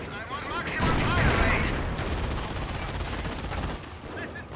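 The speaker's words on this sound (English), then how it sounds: "The Panzer is able to fire more quickly." A Panzer tank in Company of Heroes fires on rapid fire, with heavy booming shots and crackling battlefield gunfire rolling together into a dense, loud, sustained barrage.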